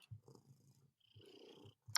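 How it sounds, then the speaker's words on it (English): Soft, close cat purring in a steady low rumbling rhythm, ending with a brief sharp noise. "can hear you purring about her."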